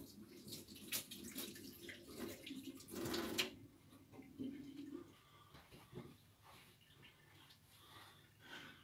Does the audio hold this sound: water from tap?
yes